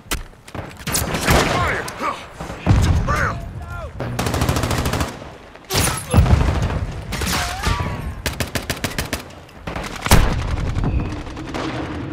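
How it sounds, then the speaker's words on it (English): Rapid automatic gunfire and loud bursts from a first-person shooter video game crackle near and constantly, mixed with in-game announcer callouts and a player talking over the shooting. "Shooting right at these motherfuckers."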